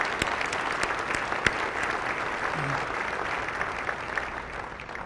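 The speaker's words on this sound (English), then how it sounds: "let's give them a round of applause early on" An audience at a Florence-Darlington Technical College entrepreneurial forum gala gives dense, sustained applause. Many hands clap evenly throughout, with a few sharper claps standing out near the start.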